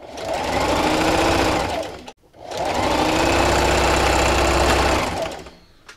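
A sewing machine stitches an outdoor throw pillow, running in a steady loud whirring drone for about two seconds, pausing briefly, then running again for roughly three more seconds before winding down, with no talk.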